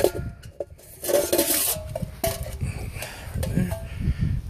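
A metal Solo Stove is lifted out and handled, producing a few close clanks, scrapes and clinks of metal parts knocking together in quick, irregular bursts.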